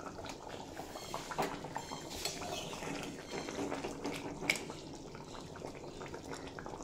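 Mutton and potato curry (mutton jhol) simmers covered in a pot, giving a faint, steady bubbling and ticking with soft drips throughout.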